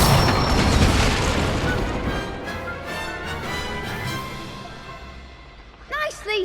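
The Incendio fire spell cast in Hogwarts Legacy erupts in a loud, roaring whoosh that slowly fades, ending with a few brief chirping effects.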